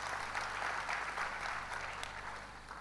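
A church congregation applauds during a Sunday sermon, a steady, dense wash of clapping that holds at an even level throughout without thinning out.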